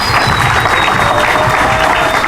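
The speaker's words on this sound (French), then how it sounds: "Applaudissez très fort" A diploma ceremony audience bursts into dense, loud, continuous applause, a full crowd clapping close by for the whole stretch with no break, a faint tone drifting over it.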